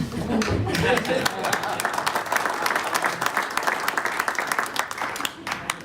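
An audience claps together at a club assembly meeting, a dense, steady round of applause that carries for several seconds before thinning out, with voices murmuring beneath it.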